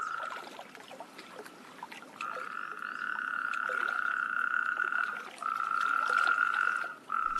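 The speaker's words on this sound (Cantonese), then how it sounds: "黃條背蟬樹同其他動物就會開始唱歌。" Natterjack toads and other amphibians call during a mild winter spell in Iberia, where they breed in shallow water. Their loud, sustained trill runs almost without pause, briefly drops out near the end, then resumes strongly.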